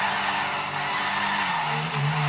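Car tires squeal in a sustained skid across a road in a sandbox driving game, a loud continuous screech over engine noise with the pitch sliding near the end.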